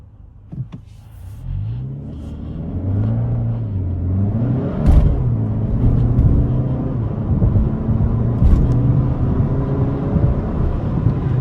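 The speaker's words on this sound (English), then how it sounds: "This car is genuinely fast. I mean, I am in sport mode" A 2025 Kia K5 GT in sport mode accelerates hard from inside the cabin, engine note rising through the gears with audible shift dips and a steady rumbling drone.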